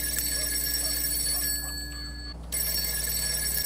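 A phone rings in the video game GTA 5: a steady electronic telephone ring with a brief pause in the middle, loud and close, with no talk over it.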